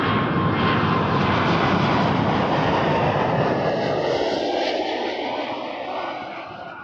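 Air Canada heavy jet landing on runway 24 left at Toronto Pearson, a loud broad engine roar close by that slowly fades and thins toward the end, with no talking.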